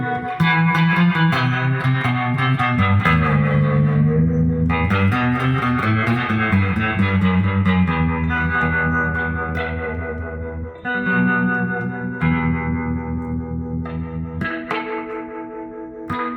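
Surf-style electric guitar runs through an amplifier's harmonic tremolo circuit, ringing out a loud, close melodic phrase with a shimmering, pulsing warble and wet reverb, with no talking.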